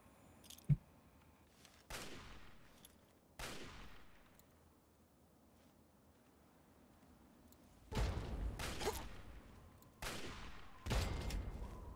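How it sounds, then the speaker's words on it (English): Enemy gunfire in a shooter video game: a few separate loud shots early, then sharper bursts of fire later, all heard with no talk. "There's another guy shooting at me."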